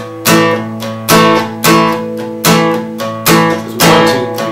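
Acoustic guitar strumming Marvelous Light with palm muting, five steady chord strokes evenly spaced, each thick and briefly ringing, loud and alone.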